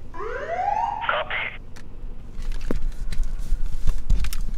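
A police car siren wails on a road near a border crossing, a rising and falling tone followed by short bursts, then fading into road noise and rumble, with no voices.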